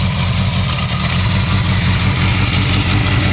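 A cold 1978 Honda 750F Super Sport motorcycle idles steadily on a chilly morning, its low, even engine pulse loud and close throughout with no talking.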